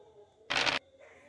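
A short burst of bright, noisy digital sound effect from the Ludo King game as a token comes out lasts under half a second, loud against a quiet background, then fades to a faint tone.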